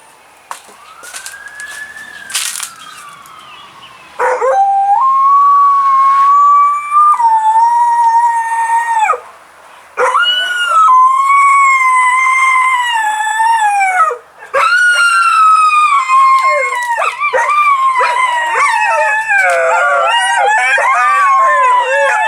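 Dogs howl together in long, wavering, siren-like wails imitating a passing fire truck siren, rising and falling, overlapping and loud, with no talking.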